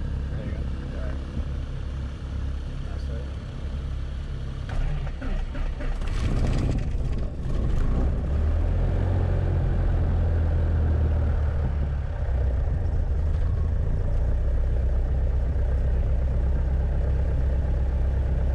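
A Cessna 150 light airplane engine cranking and catching, then settling into a loud, steady low rumble at idle inside the cockpit, with people talking over it.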